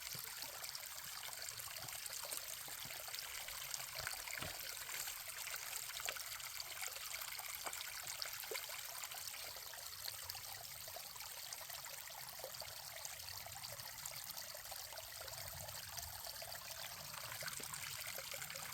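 Steady thin trickle of filtered water running from a squeezed filter bag into a water bottle on a trail, continuous and close, with a soft hiss and faint splashes throughout and no voices.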